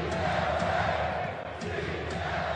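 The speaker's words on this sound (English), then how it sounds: "The crowd standing at Pepsi Center." A basketball crowd at the Pepsi Center keeps up a steady, dense roar of cheering and noise for the whole stretch, with no single loud peak.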